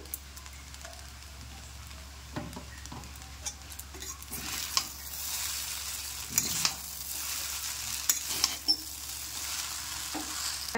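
Duck-egg chowmein stir-fries in a pan with a pinch of ground black pepper, giving a steady close sizzle broken by irregular scraping and tossing knocks from the spatula, with no voices.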